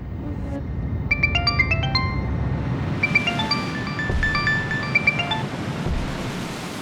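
A mobile phone ringtone plays in a domestic drama scene, a repeating electronic melody of bright tones in two bursts over a steady background hiss, with no talk during the ringing.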